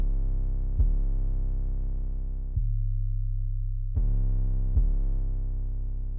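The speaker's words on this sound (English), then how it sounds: "So here I have a Luger 808, and then I have this Spins 808 with a lot of distortion on it." Deep 808 bass notes, a clean Luger 808 alongside a heavily distorted Spins 808 with no reverse effect, struck four times with sustained, slowly fading tones and a brief gap midway.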